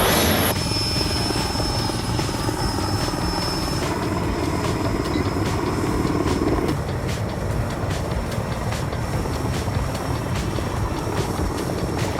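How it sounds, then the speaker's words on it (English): A helicopter carrying a power line tower gives a loud, steady rotor and engine roar that holds unbroken from start to finish. "just a helicopter transporting a power line tower"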